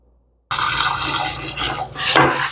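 Soaked lentils are washed by hand in a bowl of water, a sudden close burst of swishing and sloshing that rises to a louder splash near the end.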